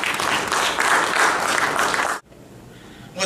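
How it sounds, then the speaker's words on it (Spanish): A conference audience gives loud, dense, sustained applause that stops abruptly, leaving a quiet room before a small sound returns at the end. "lo recibimos con un fuerte aplauso"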